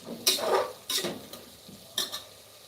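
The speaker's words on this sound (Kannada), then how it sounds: "ಚೆನ್ನಾಗಿ ಫ್ರೈ ಮಾಡ್ಕೊಳ್ಳೋಣ ಫ್ರೆಂಡ್ಸ್" Fenugreek leaf rice bath being stirred and fried in a pan, with three short scraping, sizzling strokes of a spoon against the pan, separated by quiet pauses.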